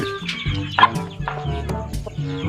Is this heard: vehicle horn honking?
no